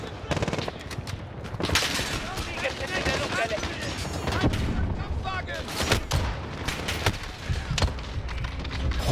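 Rapid automatic gunfire and explosions from Call of Duty Modern Warfare gameplay, dense bursts of shots crackling continuously with booms, someone speaking German over the action.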